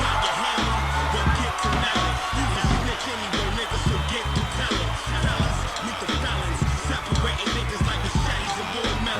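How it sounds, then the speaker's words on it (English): A large video-game wrestling crowd roars and cheers continuously in the Hammerstein Ballroom while an announcer talks over it, with thumping impacts scattered throughout. "Listen to this crowd here in the Hammerstein Ballroom"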